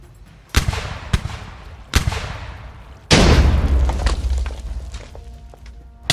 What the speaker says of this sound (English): Make the cannons roar!